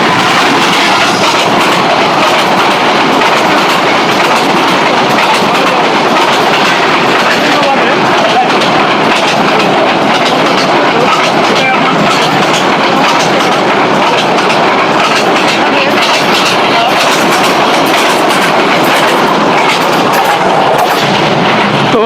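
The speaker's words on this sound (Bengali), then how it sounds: "এই জায়গায় আমার পিছনে দেখতে পাচ্ছেন মেট্রো রেল" A metro rail train passes close behind, a loud, unbroken roar that fills the whole stretch and drowns out any other sound.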